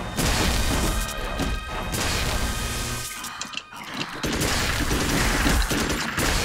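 Continuous gunfire and crashing impacts in the video game Magicka, dense and loud, dropping briefly in the middle before the barrage resumes.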